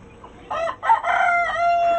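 A rooster crows loudly and close, a single drawn-out call rising after a moment of quiet, with faint clucking underneath.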